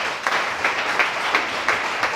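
A church congregation applauds to acclaim a scripture reading, many hands clapping in a thick, rolling wash with rhythmic surges, fairly loud and steady, with no speech over it.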